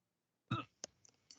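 Hiccups from a person, heard as one louder voiced gulp followed by a few short, fainter clicks within about a second, close and with no talk.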